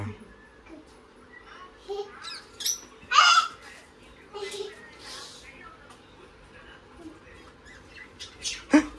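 A bird squawks in a few sharp, separate bursts, one loud near the end, while a child and other people talk softly nearby.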